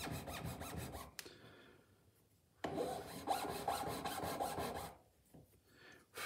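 A metal file rasps back and forth across a signet ring being carved, in close, steady strokes that come in two bursts separated by a short pause.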